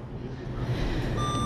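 Steady electronic beeping from a stove, a repeating tone heard close over a low continuous hum.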